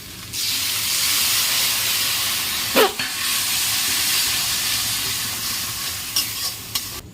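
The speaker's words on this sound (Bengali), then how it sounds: "পাঁচ মিনিটের মতন মশলাটা কষিয়ে নেবো" Spice paste for egg curry, seasoned with salt and turmeric and splashed with water, sizzles and steams steadily in a pan in a village kitchen, with a brief louder stirring scrape partway through and a few light clinks near the end.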